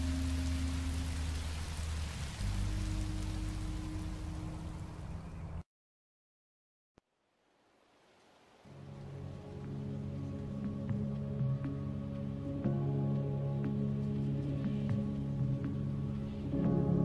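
Rain falls steadily in Minecraft: Story Mode, a soft continuous hiss with low game music underneath, cutting to silence briefly midway before fading back in as rain and music resume.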